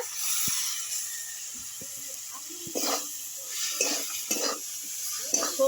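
Bhola fish curry with mustard paste, cooked with banana stem, stirred in a pan: a steady sizzling hiss with scraping and soft clinks from the spoon, and a few stronger stirring strokes toward the end.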